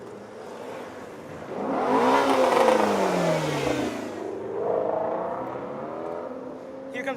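Pagani Zonda supercar roaring past on the road, engine rising to a loud peak as it nears, then a second shorter swell as it pulls away, fading off.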